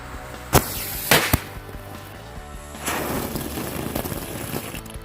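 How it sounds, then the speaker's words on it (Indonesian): A lit tank baja firecracker goes off outdoors in the late afternoon, giving a few sharp loud cracks followed by a sustained hissing, crackling burn. "Yang selanjutnya sore hari ini kita nyalain mercon tank baja"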